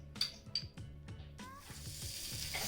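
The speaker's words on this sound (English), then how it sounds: "Sizzle, sizzle." Butter sizzling steadily in a hot frying pan, with a few light clinks of a utensil against the metal early on, the frying hiss swelling toward the end.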